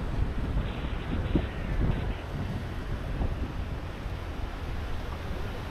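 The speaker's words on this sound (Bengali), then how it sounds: "ওয়াও ঢেউটা সেই না ভাই?" Ocean waves at a rocky shore in Malé, Maldives, a steady wash of surf mixed with heavy wind buffeting the microphone, moderately loud and continuous with no talking.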